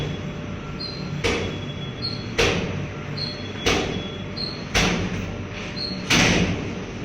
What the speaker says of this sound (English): the door to the basement started to open and close on its own, but not completely